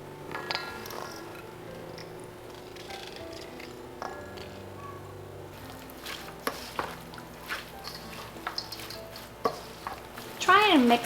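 Homemade kimchi paste being worked together by hand or spoon in a bowl: soft, wet squelching and scraping with scattered clicks and taps. It grows busier and louder toward the end, with no talking.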